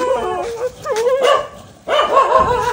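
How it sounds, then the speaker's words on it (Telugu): Dogs on a road at night bark and yip close by in a few sharp bursts, with a whimpering, howling edge between the barks. "పారిపోండి పారిపోండి, కుక్క కుక్క."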